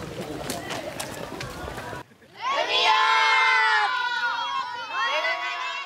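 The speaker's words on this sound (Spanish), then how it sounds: "Gritaron al océano para sentir la familiaridad y belleza del mar." A group of people at a seaside gathering shouting out toward the ocean together, a loud burst of many overlapping voices that begins suddenly after a stretch of narration and carries on to the end.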